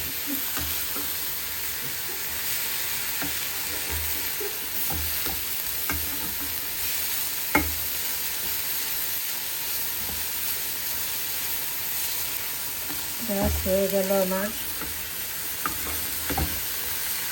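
Shrimp sizzle as they fry with coconut in a pan, with a steady hiss and the occasional scrape of a spatula stirring. A brief voice speaks near the end.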